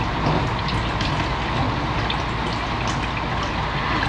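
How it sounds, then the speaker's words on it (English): Steady, close hiss of running water over hands during handwashing at a sink, continuous and fairly loud with no talking. "Wet it by holding them lower than the elbow under running water to allow the water to flow from wrist to the fingertips."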